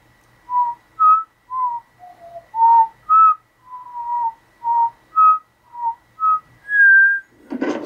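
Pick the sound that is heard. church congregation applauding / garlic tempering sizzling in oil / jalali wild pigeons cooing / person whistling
person whistling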